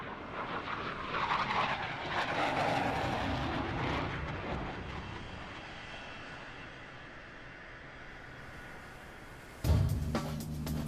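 An F/A-18 Hornet fighter jet lands on an aircraft carrier deck with a loud, rising engine roar that slowly fades, followed by a sudden sharp jolt and clatter near the end.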